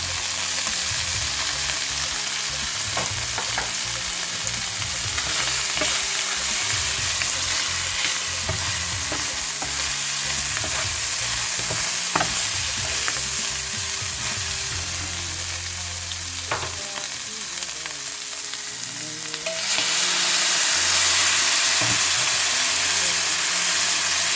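Chicken liver sautéing in a pan, a steady close sizzle and fry hiss with frequent stirring scrapes throughout, growing brighter and louder near the end as moisture hits the hot pan.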